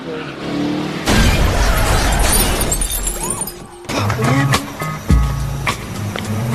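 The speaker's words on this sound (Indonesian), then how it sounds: "Tiba-tiba mobil mereka ditabrak oleh seorang wanita mabuk" In a film scene from Colombiana, a car slams into a police patrol car with a sudden loud crash and shattering glass, then debris clatters and a second impact thuds.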